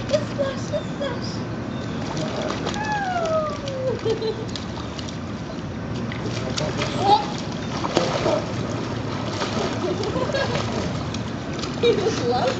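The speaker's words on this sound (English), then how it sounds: "The splash! Oh my goodness, the splash!" Water splashing repeatedly at close range, with a voice and a voice speaking over the sloshing.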